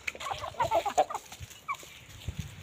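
Aseel fighter-breed rooster clucking close by in a bird setup, with a cluster of short, quick clucks followed by a few scattered softer ones against quiet surroundings.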